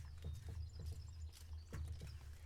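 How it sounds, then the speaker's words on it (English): Running horse hooves in a video game, a quick clip-clop of repeated hoof falls in an uneven gallop rhythm, moderately loud and close, with no talk over them. "Wow, the horse runs."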